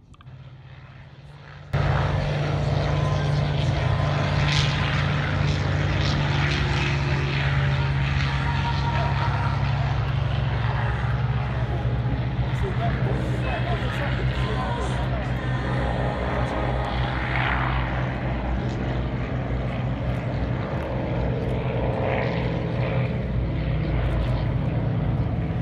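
A B-17 bomber's piston propeller engines roar in at a WWII airshow at Imperial War Museum Duxford, a loud, steady drone that holds for over twenty seconds, with voices faint beneath it.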